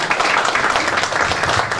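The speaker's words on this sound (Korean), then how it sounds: "큰 박수로 부탁드립니다." A crowd applauding steadily at a campaign office opening ceremony in Korea, dense clapping throughout, loud and close.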